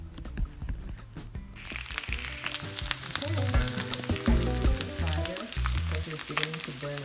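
Spinach frying in a pan with squeezed-out greens for a Cameroonian dish, a steady crackling sizzle with stirring scrapes, quieter at first and then fuller, under continuous background music.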